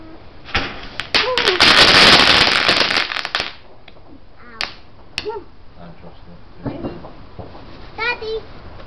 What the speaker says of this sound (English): Ooh, firework!